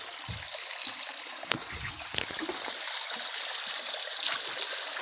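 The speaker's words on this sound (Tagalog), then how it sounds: "Ito yung tubig kung saan nasa ilalim siya ng lupa. Okay, naglalabas siya." Spring water flows out from underground at a clean village water source, a steady close trickling stream with a few small splashes and knocks, no one speaking.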